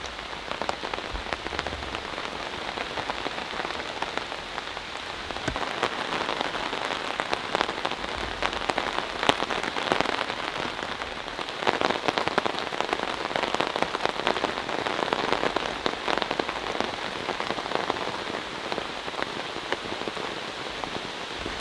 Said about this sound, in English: Raining again, Jax